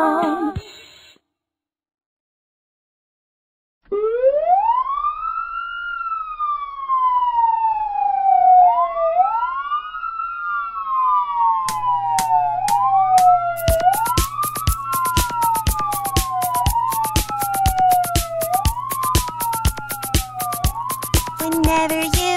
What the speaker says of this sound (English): Whenever you hear this sound, you know an ambulance is around.